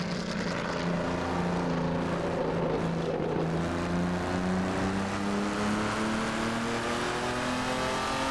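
A Jaguar XJ13 racing engine in Assetto Corsa revs hard toward 8,000 RPM, a loud continuous rising whine with climbing harmonics, alone without voices.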